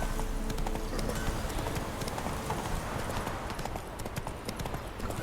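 Roach the horse clip-clops along in The Witcher III, hooves beating in a quick, continuous rhythm at modest volume beneath a wash of game ambience.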